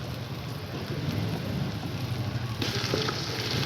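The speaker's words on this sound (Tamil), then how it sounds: "வதக்குது." Ginger garlic paste sautés in a pot over a wood fire with a continuous close crackling sizzle and hiss, dense and steady throughout.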